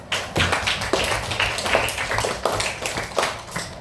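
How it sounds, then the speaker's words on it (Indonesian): A classroom of students applauds a classmate at an Islamic boarding school lesson, a steady burst of many hands clapping close by for several seconds. "Kasih aplaus untuk kawannya."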